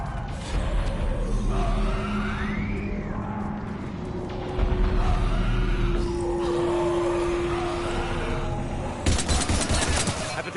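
Sustained automatic gunfire in the Mass Effect video game keeps up a steady, loud clatter during a firefight against husks, with a tonal hum and shouting underneath and a harsher burst near the end.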